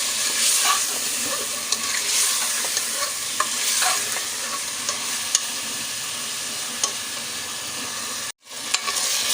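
Beef masala fries in a pan as spices are stirred in, giving a dense continuous sizzle with light clinks of the spoon scattered through and a brief cut to silence near the end.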